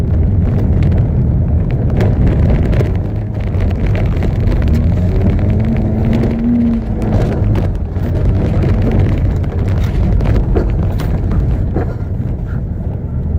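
A car drifting and fishtailing: a loud, steady engine roar with rumbling road and wind noise throughout, captured from close inside or beside the vehicle.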